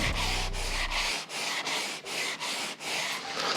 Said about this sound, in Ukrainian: Бампер буде шліфуватися трошки гірше.